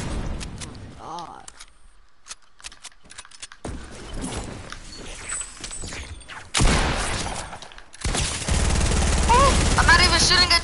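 Automatic gunfire in the video game Fortnite, bursts of rapid shots and sharp cracks growing louder toward the end, with voices of players talking over the action.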